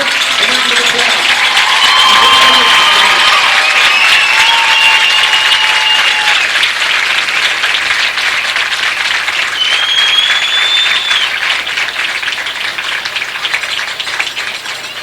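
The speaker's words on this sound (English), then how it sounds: "let's give the 2013 Houston Academy homecoming court a round of applause" Crowd applause and cheering at a high school football game for the Houston Academy homecoming court, loud and sustained, with an announcer talking over it and some whistles rising above the clapping.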